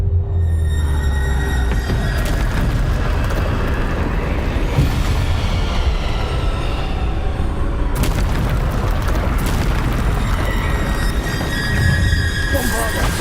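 Loud, dense spell blasts and booms from Bombarda and other combat spells in Hogwarts Legacy, continuous and layered throughout, with sharp bursts and squeals over a constant roar, with people talking over the action.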